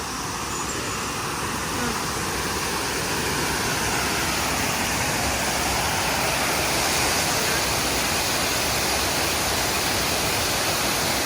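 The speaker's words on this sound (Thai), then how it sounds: "มีน้ำตก" Steady, loud rush of falling water fills the whole clip, a dense broadband roar with no breaks.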